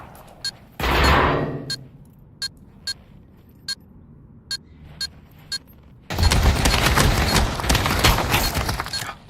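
Deagle pistol shots in the VR shooter Pavlov during a competitive match, a series of sharp single cracks spaced about a second apart, then a dense burst of loud rapid gunfire near the end.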